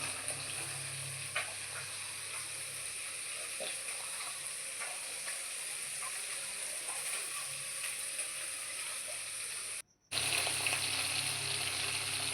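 Spice-coated tengra catfish frying in a wok (kadai), giving a steady close sizzle and crackle of hot oil that runs unbroken, apart from a momentary cut near the end.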